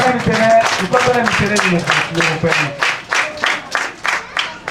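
Audience applause at a ceremony in Ouesse for a pastor, rhythmic group clapping with voices and tonal sound over it early, then clearer pulsing claps.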